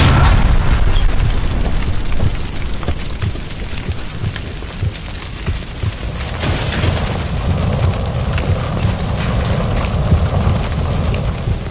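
A gas line explodes in the L.A. Noire game: a loud, sustained roaring blast with a rumbling low end and crackling bursts that wash over the whole stretch, with no voices.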